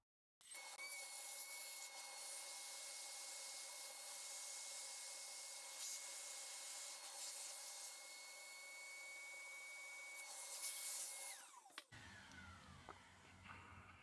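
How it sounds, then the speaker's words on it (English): A Dremel rotary tool cuts through a 1.5 mm carbon rear underguard for a Tamiya Mini 4WD, giving a steady, loud high-pitched whine for about eleven seconds before spinning down and stopping, with no talking. "we're gonna using Dremel to cut it from this way to remove these all the Y pieces"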